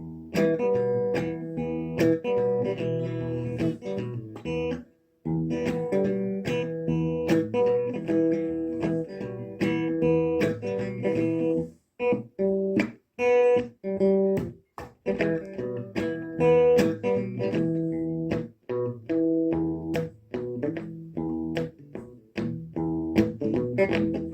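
A guitar plays a low bass line and a higher melody at the same time, steady plucked notes ringing together for the whole stretch with no talking.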